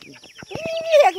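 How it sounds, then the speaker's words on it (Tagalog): Chickens on a farm that also keeps a fish pond and a vegetable garden cluck in short, close bursts, ending in a louder drawn-out squawk. "Mga manok."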